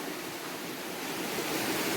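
A rural stream in full flow, water rushing in a constant broadband hiss with no breaks, steady and fairly close, nothing else standing out.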